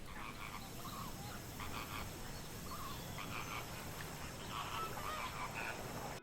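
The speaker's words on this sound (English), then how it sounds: "flamingos are quite noisy. They communicate with honks, growls, and trumpet-like calls." A distant flock of greater flamingos honks and calls over one another in a continuous noisy chorus, fairly faint beneath outdoor background noise.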